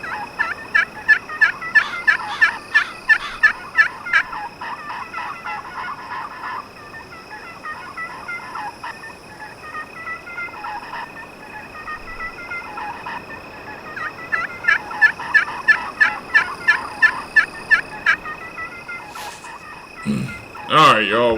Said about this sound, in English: This turkey next to me is absolutely hammering.